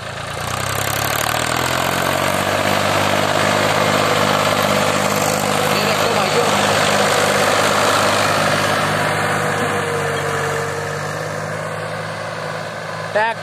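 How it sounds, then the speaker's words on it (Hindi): A Mahindra 265 DI tractor's diesel engine idles close by with a steady, rumbling throb that continues without a break throughout. "भाई साउंड भी सुनवाता हूँ मैं ट्रैक्टर की कितनी प्यारी है।"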